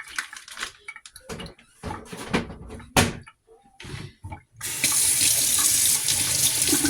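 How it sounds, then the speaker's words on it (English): Water runs from a kitchen tap into the sink as a knife and fork are rinsed during fish and cornbread cooking, with clinks and bumps of cutlery, then a steady loud stream of running water toward the end. "Wash off my knife. Wash off my fork."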